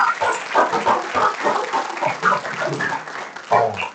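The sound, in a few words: applause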